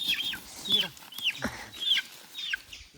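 A chicken clucks in short, sharp bursts several times, fairly close, with faint voices and background noise around it.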